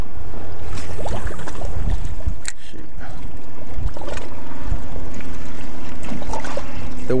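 Steady wind buffets the microphone on a fishing boat at sea, a loud continuous rumble with faint water and gear sounds beneath, no talk.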